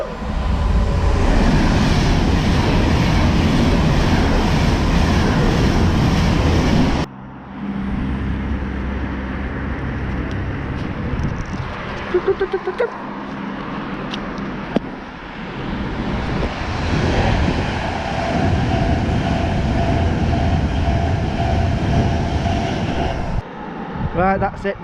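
A train passes in Congleton, Cheshire with a loud, steady rumbling roar that cuts off abruptly, then a quieter stretch before the heavy noise swells back up and drops away near the end.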